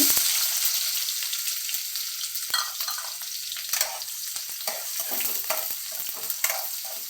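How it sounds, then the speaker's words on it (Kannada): Onions with cumin seeds frying in hot oil for paneer bhurji, a steady close sizzle with repeated stirring scrapes and clinks of the spoon throughout, no voices. "ಈಗ ಫ್ರೈ ಮಾಡ್ಕೊಡೋಣ ಈರುಳ್ಳಿ ಚೆನ್ನಾಗಿ"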